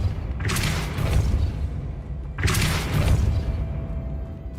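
Depulso force spell cast in the Hogwarts Legacy video game, heard as two separate whooshing, booming bursts about two seconds apart over a steady low rumble, with no talking.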